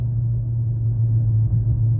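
A 2016 Mercedes-Benz S550 with a muffler delete emits a deep, steady exhaust rumble at idle, low and continuous throughout the short stretch.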